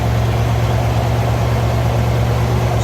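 A Buick Nailhead V8 in a 1954 Buick Special Hardtop idling with a steady, low, even rumble, heard close by and with no voices.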